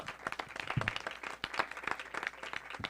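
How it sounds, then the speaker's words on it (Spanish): Audience applause at the closing panel of a university film event, a continuous rattle of many hands clapping throughout, fairly close and steady. "Un aplauso, por favor."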